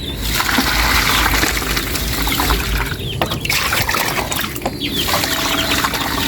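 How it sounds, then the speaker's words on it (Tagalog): Water being poured into a container to soak siling labuyo chili seeds: a loud, steady, close splashing and gushing pour that continues throughout. "Lagyan daw muna natin ng tubig."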